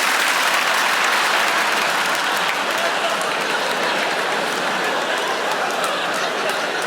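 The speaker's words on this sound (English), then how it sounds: "Why have you stopped clapping?" A live comedy audience at a Paul Chowdhry stand-up show claps continuously, a dense, loud, even wash of applause from a large crowd with no pauses.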